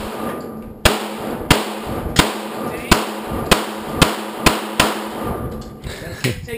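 Gunfire at an outdoor shooting range, with about nine sharp, loud shots spaced at a fairly even pace, each followed by a short ringing decay.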